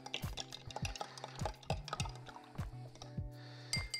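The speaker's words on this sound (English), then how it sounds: "just stirring it in order to integrate all the flavors" A strawberries-and-cream cocktail being stirred in a glass or mixing vessel, with a quick run of spoon clinks and liquid swirls repeating about twice a second, close and fairly quiet, with no voices.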